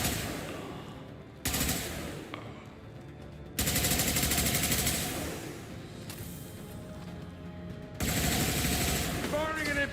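Gunfire in the video game Mass Effect 2 comes as loud, dense bursts of automatic shots with crashes and whooshes, separated by brief lulls, and a voice speaks in places.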